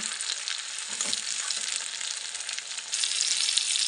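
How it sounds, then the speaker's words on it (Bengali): Tomato sizzles in a pan over frying onion in mustard oil, a dense continuous hiss close by that swells a little louder toward the end. "টমেটোটা দিয়ে আর একটু ভেজে নেব।"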